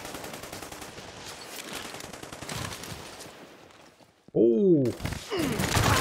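Gunfire bursts in the video game Army of Two: The Devil's Cartel, with a stretch of rapid shooting followed by a quieter gap, then a loud close shot and an exclamation from a voice.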